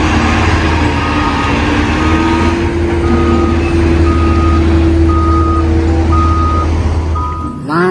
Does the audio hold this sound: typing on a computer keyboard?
no